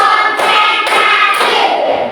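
A classroom group claps hands in unison with about three sharp, evenly spaced claps against a busy background.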